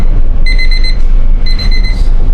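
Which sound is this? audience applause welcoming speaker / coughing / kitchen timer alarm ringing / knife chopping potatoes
kitchen timer alarm ringing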